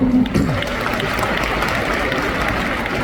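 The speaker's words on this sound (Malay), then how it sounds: "Tepukan untuk upline anda." An indoor crowd at an Amway recognition rally in Kuala Lumpur claps loudly and steadily for about three seconds, with a voice briefly audible at the start.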